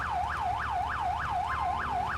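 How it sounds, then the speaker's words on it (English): Police car siren from a Leftwood police CVPI in GTA 4 with the LCPDFR mod, a loud rising and falling wail repeating rapidly and evenly about every quarter second over a low engine hum. "I'm gonna quickly do a siren check."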